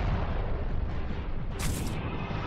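A weapon shot in the space game Halcyon 6 lands as a short, loud, noisy blast followed by a brief bright crackle.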